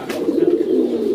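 Fancy pigeons at an indoor pigeon farm coo with a steady low, throaty murmur, close and continuous throughout without any talking.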